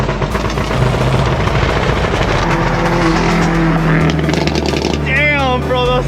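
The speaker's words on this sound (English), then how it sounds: "Damn, bro, those things are loud." Loud, close exhaust roar from a straight-piped Kia Stinger, holding steady then dropping and rising again with revs, while a voice speaks over it.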